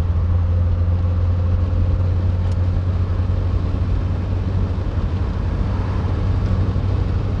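A 1983 Saab 99 cruising at speed in fifth gear, with a strong steady low engine drone and road and wind noise filling the cabin, constant and loud throughout.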